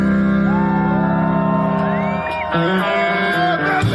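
Crowd at the 2022 Canadian Pacific Holiday Train stop in Milton Yard cheers and shouts for a singer, loud and continuous, with whoops rising over music and a steady din throughout.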